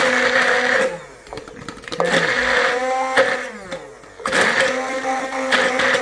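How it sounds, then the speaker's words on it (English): A blender whirs loudly in bursts as hand sanitizer ingredients are mixed into a jelly-like liquid, pausing briefly between runs and restarting, close and steady. "I'm just going to put it into something which I can blend in"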